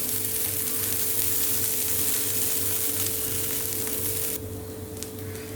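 Kabuli soya tikkis fry in a little oil over a low to medium flame, giving a steady, close sizzle that continues throughout and turns slightly quieter near the end.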